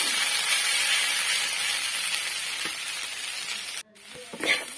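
Mixed winter vegetables frying and being stirred in a pan give a steady, loud sizzle with scraping stirs, cut by a brief pause before the sizzle returns.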